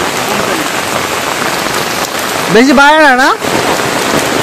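Heavy rain pours down in a steady, close, dense hiss, continuing under a person speaking briefly.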